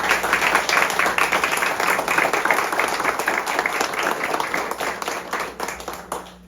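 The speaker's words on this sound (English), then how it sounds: "Can we please give him a round of applause for their service?" Audience applause for armed forces veterans at a campaign kickoff event, a steady, dense round of clapping from a crowd that holds for several seconds and then fades away at the end.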